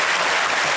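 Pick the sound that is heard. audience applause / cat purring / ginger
audience applause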